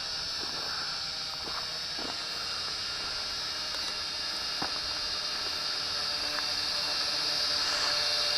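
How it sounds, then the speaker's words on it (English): An MJX X400 camera quadcopter drone hovers in place, giving a steady, even motor-and-propeller whine with a high hiss that holds at a constant level throughout, with a few faint clicks and no talk. "this is the MJX X400 in hover"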